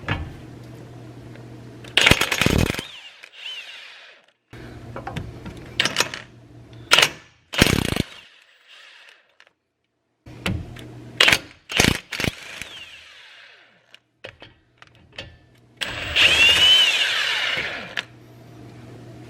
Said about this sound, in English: we're going to take out those 3 bolts I just showed you. They are a 13mm.